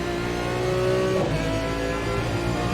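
Racing car engine revving hard in a motion simulator racing game, a loud steady drone with the pitch climbing and then dropping as gears change, close and continuous with no talk over it.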